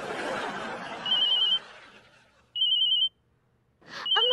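A mobile phone rings with an incoming call in a household scene, sounding two or three bursts of a steady electronic ringtone that stop and restart, with muffled chatter in between.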